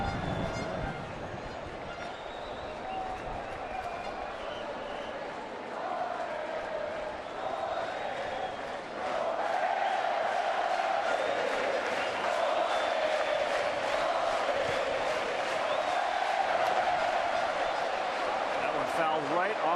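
Crowd noise from a baseball exhibition game in Havana, a steady roar of cheering spectators that swells partway through and stays loud, mixed under a play-by-play commentator's talk.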